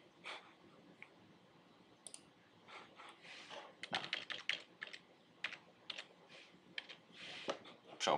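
Typing on a computer keyboard while entering text in ChemSketch chemistry software, sparse clicks at first and then quicker irregular bursts of keystrokes, close to the microphone in a quiet room.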